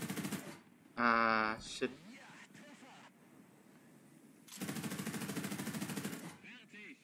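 Bursts of tank gunfire in War Thunder, including a Wiesel 1A4, ring out loud and close in short rapid volleys over engine rumble, while someone talks through much of it.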